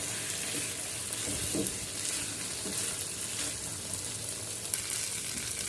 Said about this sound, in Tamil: நான் வந்து நல்லா ரோஸ்ட் பண்ணி எடுக்க போகிறேன்